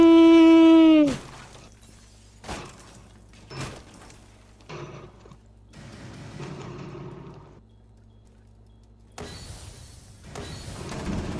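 Glass shatters in Rainbow Six Siege as several sharp, bright crashes land a second or two apart. A loud tonal whine opens the sequence, and quiet gaps separate the breaks.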